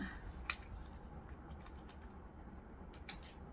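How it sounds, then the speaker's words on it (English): Vinyl scissors trim excess material from a stitched seam, a quiet run of small snips with one sharper cut near the start and a few more toward the end, heard alone without talk. "Grab some vinyl scissors and we're just going to trim off that."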